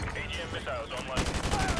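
AGM missile strike in Modern Warfare 2 Remastered: a dense, rumbling barrage of explosive impacts rolling on for under two seconds, loud and continuous with a heavier burst near the end.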